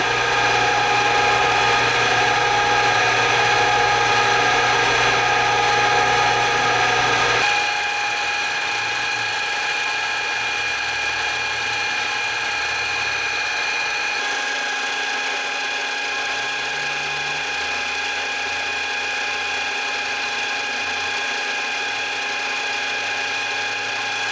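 A PM727M milling machine spindle under Mach3 control whirs with a steady mechanical tone, louder for the first seven seconds, then running quieter and settling into a lower, even hum with faint shifting drive noise.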